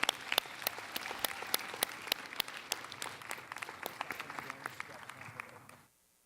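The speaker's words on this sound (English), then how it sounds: "Please join me in a round of applause for all our State Officer Nominating Committee members" Applause in a convention hall during a state FFA session, many sharp separate claps over a softer background of clapping and voices, continuing steadily before cutting off abruptly near the end.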